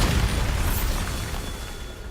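A Bombarda spell explosion in the video game Hogwarts Legacy gives a loud, sustained low boom with broadband rumble and crackle that slowly fades over about two seconds.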